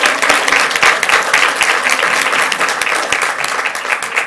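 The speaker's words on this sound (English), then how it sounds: "Give them a round of applause." Sustained applause fills a school board meeting room as the audience claps for visiting students, dense and even throughout with no talk over it.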